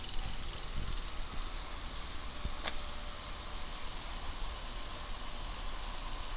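Motor of an Addmotor M60 e-bike with a reported motor issue, running in walking mode: a continuous whirring hum with a faint whine, steady and moderately close, with a couple of brief clicks.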